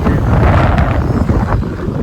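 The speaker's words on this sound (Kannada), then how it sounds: "ಒಟ್ಟಿನಲ್ಲಿ ಗಾಳಿ ಮಾತ್ರ ಜಾಸ್ತಿ ಇದೆ." Strong seaside wind at Pattaya blusters loudly against the microphone, a dense, rumbling roar that stays steady and close throughout with no other sound standing out.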